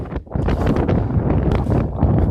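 Strong, continuous wind buffets the microphone on an exposed hillside in the Elan Valley, Wales, with weather moving in; loud, gusty roaring fills the whole stretch without a break and no voice is heard.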